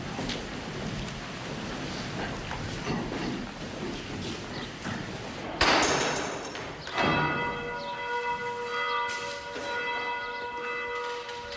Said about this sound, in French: La cloche rassemble une dernière fois la communauté à l'église.